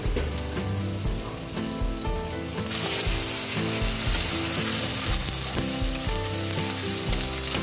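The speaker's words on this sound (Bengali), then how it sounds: "একটু ভালো করে কষিয়ে নিচ্ছি।" Spices and salt sautéing in a pan for a Bengali fish curry with drumsticks and potatoes, giving a loud, steady sizzle that runs continuously and swells midway, with no talk.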